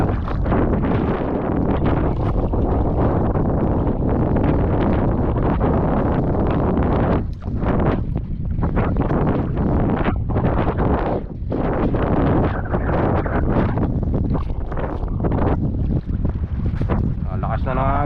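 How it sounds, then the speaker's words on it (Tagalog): Strong wind buffets the microphone on a sea shore in Palawan during shore casting, a loud, continuous roaring rumble with gusty surges and brief dips throughout. "Lakas na ng hangin."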